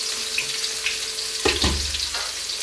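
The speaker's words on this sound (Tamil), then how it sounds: "கடுகு பொரிஞ்ச பிறகு வெங்காயம் போடலாங்க" Onions dropped into hot oil after mustard seeds splutter, a nearby frying hiss with a sudden louder burst of sizzle and clatter about halfway through, then settling back to a steady sizzle; nobody speaks.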